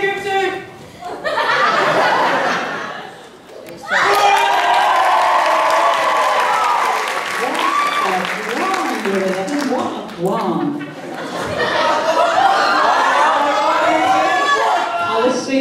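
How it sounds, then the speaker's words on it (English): A school leavers' assembly audience in a hall cheers, whoops and claps in loud rolling waves, with laughter and chatter mixed in and a voice talking over the crowd in places. "I'll assume that you're cheering and cheering."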